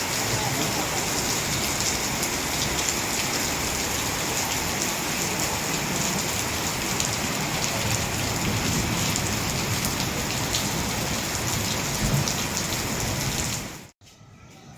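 Heavy rain pours down steadily in a Pathani village, a dense, loud, unbroken hiss of drops on surfaces that stops abruptly near the end.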